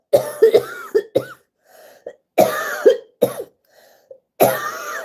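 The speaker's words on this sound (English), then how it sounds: "I cannot stop coughing, and I don't know why." A person coughs repeatedly in close, harsh bursts, grouped in fits with short quiet gaps between them.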